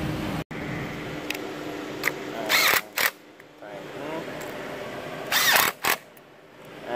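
A 10 mm battery terminal nut on a Dodge Grand Caravan being tightened with a ratchet, giving a few short clicking and whirring bursts between quieter pauses.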